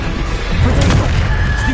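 Bombarda spell blasts in Hogwarts Legacy, a deep booming explosion with rumbling low end, heavy and close, with faint voice sounds mixed underneath.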